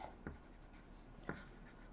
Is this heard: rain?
no